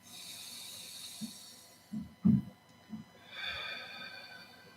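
A deep breath during guided meditation, heard as a few soft, close nasal inhales and exhales in uneven bursts against a quiet hiss.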